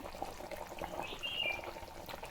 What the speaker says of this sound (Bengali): মাছ ফুটে গেছে, এবারে বেশি ফুটাবো না